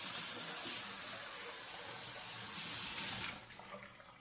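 Water runs in a steady hissing stream into a cooking pot for a few seconds, then cuts off, leaving faint drips and splashes.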